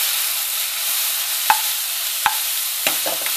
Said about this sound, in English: we have to put the flame high so that the outside of the bitter melon will be cooked first.